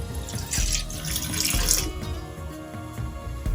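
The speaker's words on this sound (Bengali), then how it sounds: "জল দেবো, একটুখানি জল দিই।" A short pour of water splashes into a pan of spicy curry on the stove, a steady close trickle that lasts a few seconds with no talking over it.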